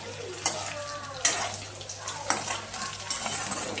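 Potatoes fry in hot oil for dum aloo, a soft steady sizzle close by, broken by several sharp metallic scrapes and stirs of a utensil in the pan.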